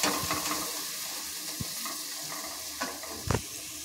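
Onion and grated coconut frying in a pan are stirred with a spoon, giving a soft steady sizzle with a few sharp scraping knocks against the pan, close by.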